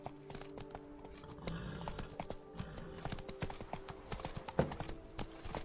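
Roach the horse from The Witcher 3: Blood and Wine galloping, a fast run of hooves clip-clopping close and steady across the clip, faint in level, with a short snort or whinny near the end.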